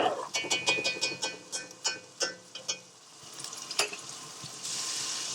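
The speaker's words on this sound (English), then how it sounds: "now add the chicken. We want to sear this for about 4 minutes" Chicken sears in a hot pan for a Pakistani chicken karahi, starting with a burst of sharp sputtering crackles and pops that settle into a steady, hissing sizzle.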